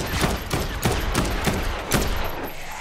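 Gunfire in the zombie game Dead Island 2 comes as a rapid series of loud, close shots at a roughly steady rhythm of about two per second, each a sharp burst across the whole range.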